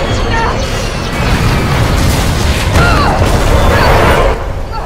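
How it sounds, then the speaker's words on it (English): A video game explosion booms as a loud, sustained crashing roar that swells and rumbles for several seconds, with a voice talking over it. "Maybe it's just a light explosion"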